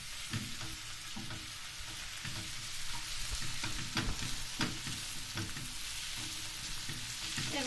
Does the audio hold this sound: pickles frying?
yes